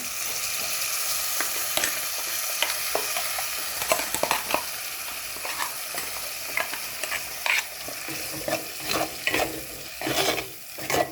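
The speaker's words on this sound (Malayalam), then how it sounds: "ഇതിലേക്ക് ഞാൻ അരച്ച് വെച്ചിരുന്ന നമ്മുടെ തേങ്ങ ഒഴിക്കുകയാണ്" Ground coconut paste poured into a pan of sardine curry, followed by steady sizzling and bubbling with repeated scraping and stirring clatters close by, without speech.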